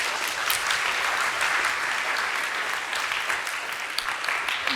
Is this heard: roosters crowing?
no